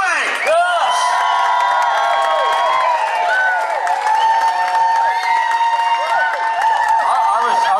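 An outdoor concert audience at a summer music series applauds and cheers for the band at the season's end, a dense wash of clapping with whoops and whistles sustained throughout.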